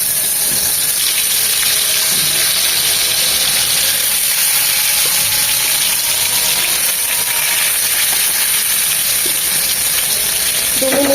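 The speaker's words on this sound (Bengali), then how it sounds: "চিতল মাছগুলো ভাজার জন্য প্যানে চার চামচের মতো সয়াবিন তেল দিয়ে দিলাম" Chital fish pieces frying in soybean oil in a pan make a loud, continuous sizzling hiss that holds steady throughout, with no voices over it.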